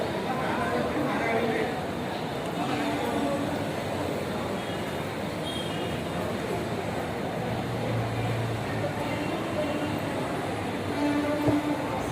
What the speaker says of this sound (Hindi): ये आपका मुंबई का बोरीवली स्टेशन है।